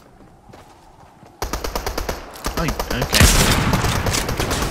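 Loud, rapid bursts of video game cannon fire rattle off in quick succession, growing denser and heavier, with a brief voice heard early on.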